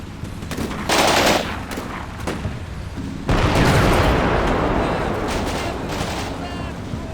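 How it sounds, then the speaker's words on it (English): Battlefield gunfire in Combat Mission Black Sea, with a sniper rifle firing amid sharp cracks and rolling booms, then a louder sustained wash of shots and rumbling impacts building from the middle onward, and a voice talking over it. "The sniper is firing away here."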